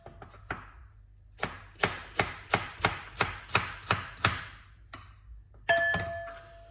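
A knife chops fresh washed okra on a board, about ten crisp, evenly spaced cuts close by, then a pause and a final louder knock.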